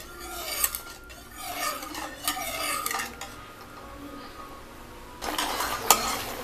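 Thick roasted rice flour kali being stirred continuously in a pan, with repeated rasping scrapes and knocks of a spoon against the metal, coming in uneven bursts close up, alone without voices.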